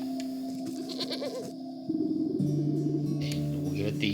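Goat bleating in the video game Wytchwood, wavering cries over game music and a continuous background tone, with a person talking at times.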